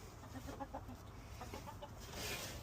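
Chickens cluck softly in a coop at night, with a few faint, scattered low clucks over a quiet background hiss, growing a little louder near the end.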